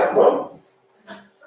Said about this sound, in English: That's my dog, don't mind her.